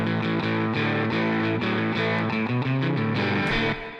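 Thick, distorted indie rock guitar chords fill a dense mix, washed with subtle reverb and a touch of delay that add space, playing steadily and loud without any voices.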